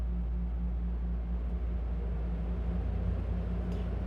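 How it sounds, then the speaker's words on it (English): Air conditioners hum steadily and faintly in the background on a hot, humid day in East Texas, a constant low drone with no other clear sounds. "if you hear my air conditioners in the background"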